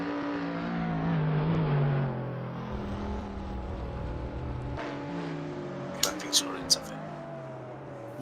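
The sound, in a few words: race car driving down a straight in Assetto Corsa video game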